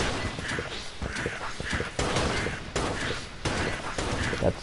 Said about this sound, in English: That's a lot of bombs.